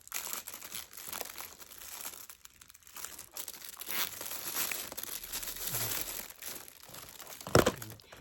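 Tape crinkles and tears in uneven bursts while being handled during basket making, fairly close but quiet, with one sharper rip near the end.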